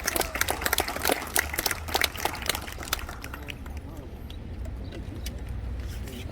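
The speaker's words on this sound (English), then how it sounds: "We should give them a round of applause." A crowd at a Juneteenth celebration in Norwich applauds the Jenkins family with a burst of loud, close clapping that thins out and fades to a quieter murmur halfway through.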